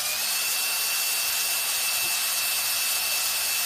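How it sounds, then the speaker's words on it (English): Power drill boring a small 1/16 inch hole during Camaro roof skin repair work, a steady high whine holding evenly throughout, loud and continuous with no talk. "I know that's a small hole I'm drilling."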